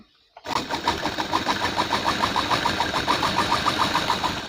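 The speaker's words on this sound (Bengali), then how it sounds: "তো এবারে এখানে আমি সেলাই করব।" After a brief silence, a sewing machine starts and runs at a fast, even pace, stitching pleats in fabric with a close, steady mechanical chatter.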